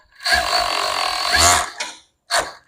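A sewing machine stitches a seam on homemade panties, running steadily for about a second before a short pause and two brief mechanical bursts.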